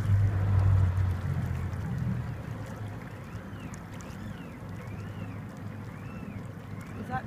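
A whale-watching boat's engine runs at a low, steady rumble, loudest at the start and then settling into a constant drone with water wash and a faint high whine over it.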